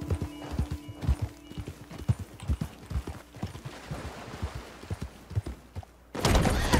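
Steady clip-clop of horse hooves at a gallop in Red Dead Online, close and rhythmic, ending in a sudden loud rush of noise.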